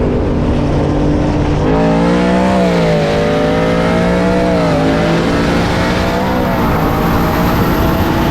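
Loud engines of a BMW M240i and a Corvette C7 roar and climb through the gears in a street race, their pitch rising and falling in steps as the cars accelerate hard together. No voices are heard.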